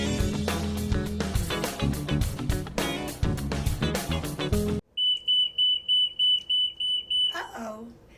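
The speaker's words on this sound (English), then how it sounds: "This is the sound of the security gate." A library security gate alarm sounds as a series of about nine sharp, evenly spaced high beeps, loud and close, following an abrupt cut from upbeat music.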